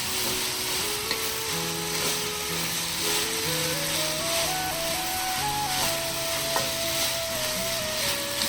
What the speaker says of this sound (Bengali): চালগুলো একটু ভালো করে ভেজে নিচ্ছে।